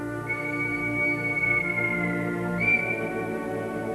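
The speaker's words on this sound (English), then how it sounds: "An impatient whistle signals the journey is about to begin." A long steady whistle from the steam locomotive Flying Scotsman sounds, holding its pitch with a brief rise near the end, over a low rumbling background.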